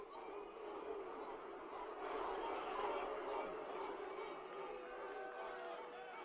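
A large crowd at the UFC 314 mixed martial arts event in Miami roars in a steady, dense wall of cheering and shouting voices that swells slightly midway and holds throughout.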